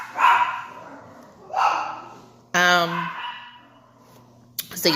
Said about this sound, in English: Wait, I'm going to stop for the dogs. Dogs are annoying.